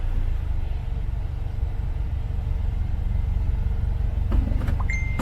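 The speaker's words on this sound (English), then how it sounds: "It's even good then to start the car sometimes" Toyota Hilux engine idling with a steady low rumble throughout, close and continuous, with a few brief clicks and a short electronic beep near the end.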